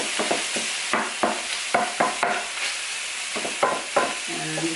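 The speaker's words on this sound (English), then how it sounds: "I'm going to give that a stir." Spoon stirring a teaspoon of dried oregano, marjoram, savory, sage and thyme into sauce in a skillet, steady scraping strokes repeating close by over a soft sizzle, with a brief tonal clink near the end.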